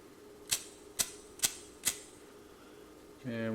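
Flint wheel of a vintage Kron Imperial Japan flip-top petrol lighter sparks four times in an even rhythm, sharp close clicks in a quiet room, followed by a short low hum at the end.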